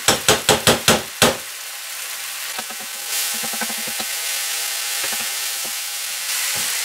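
Aubergines with tomato concentrate in a sizzling pan: a rapid series of about six sharp taps of a spoon on the pan rim, then a steady hiss of frying with occasional stirring scrapes and knocks.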